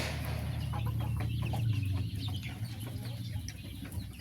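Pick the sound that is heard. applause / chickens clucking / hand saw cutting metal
chickens clucking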